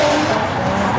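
A BMW M3 E30 drift car with a 2.5-litre turbocharged six-cylinder engine skids hard nearby, a loud, sustained tire squeal blending with the roaring engine.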